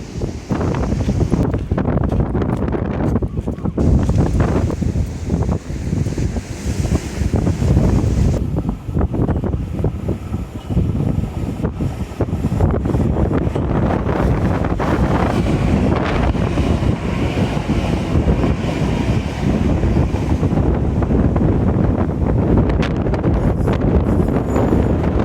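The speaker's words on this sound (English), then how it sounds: "Pushed backwards by the wind." Strong 50 mph wind buffets the microphone in a continuous loud roar for the whole stretch, gusting and rumbling without letup near a railway line with rain starting.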